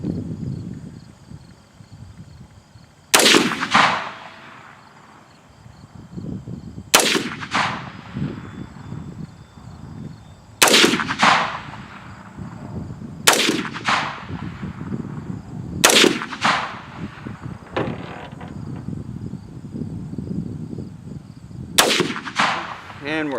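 A .300 rifle with iron sights fires seven loud, sharp single shots at irregular intervals of a few seconds, each with a short ringing tail, over quiet outdoor background and handling noise.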